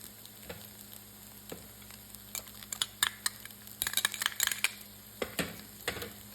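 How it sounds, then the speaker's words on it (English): Noodles seasoned with curry powder, salt and pepper are stir fried in a pan, giving a soft sizzle under scattered clicks and scrapes of a utensil that grow busier toward the end. "Then I'm just going to stir fry it."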